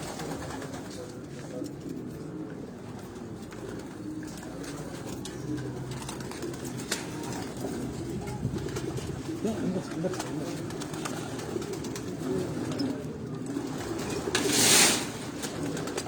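Racing pigeons coo in a loft cage, a steady soft murmur of low cooing from several birds close by, with a brief rustle or flutter near the end.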